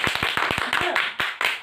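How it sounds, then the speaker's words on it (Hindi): Classroom of students clapping loudly in quick, uneven bursts of sharp claps that thin out into a few scattered, spaced final claps. "इसी बात पर एक बार जोरदार ताली।"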